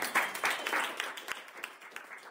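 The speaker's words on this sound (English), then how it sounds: "Let's give God another hand clap." A church congregation gives a short round of hand clapping, moderately distant and fading, with a few sharper individual claps standing out as it dies down.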